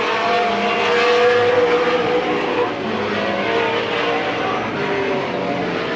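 A pack of race cars thunders around the oval at Midvale Speedway in the 1995 Fall Classic, a loud, sustained engine roar with faint tire scrubbing as the cars pass.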